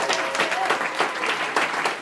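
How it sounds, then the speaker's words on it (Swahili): Church congregation clapping enthusiastically at a prayer-room opening gathering in Phoenix, Arizona, a steady dense wash of many hands lasting throughout, close and loud with a few stronger bursts. "Piga makofi mengi sana kwanza."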